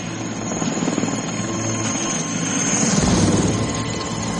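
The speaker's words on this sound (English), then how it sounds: "we've seen now a helicopter flying around" Helicopter flying in the film Rambo III: a steady, loud rotor and engine roar runs through the whole clip and swells slightly toward the end, with no talk.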